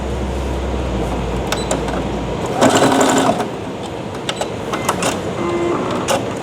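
A sewing machine stitches a rattan drawstring bag with a double row of stitching, running in a steady close whir for a couple of seconds before giving way to handling clicks and rustles.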